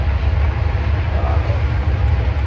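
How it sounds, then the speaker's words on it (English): A long train rumbles past nearby in the countryside, a loud continuous low roar and drone with steady mechanical texture, no speech over it. "Pretty long train."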